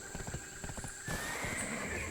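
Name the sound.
horse neighing and hooves in video game Black Desert Online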